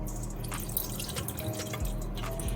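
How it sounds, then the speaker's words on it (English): Scallion, Scotch bonnet pepper and thyme are rinsed under running water, a steady close trickle with scattered drips and splashes from a tap into a sink. "I'm just rinsing them off."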